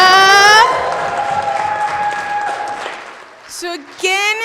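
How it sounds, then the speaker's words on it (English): Crowd applause at a poetry summit in Colorado, a steady wash of clapping that swells and then fades over a few seconds, with voices and brief tonal sounds near the start and end. "Give another round of applause for Asia."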